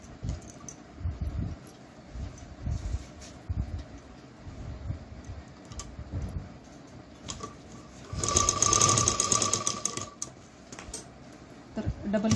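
A sewing machine stitches a double seam along a zipper chain, whirring in short bursts with one longer, louder run near the end. Someone talks between the bursts of stitching.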